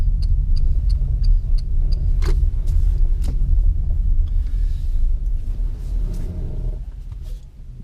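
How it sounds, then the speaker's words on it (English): A Renault ZOE electric car creeps slowly into a spot near chargers at full steering lock, with a steady low rumble of tyres and a run of small clicks and knocks up close, no talking. "I'm going to pull in here near the chargers and then put the car in full lock"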